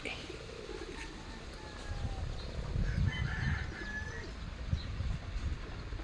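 Chickens and chicks cluck and chirp softly in a Philippine backyard coop near a trap door, scattered calls over a steady outdoor hum with some rustling.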